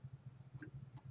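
A computer mouse clicks faintly in audio system software, a couple of small sharp ticks over a steady low electronic hum, close and quiet, with no talking.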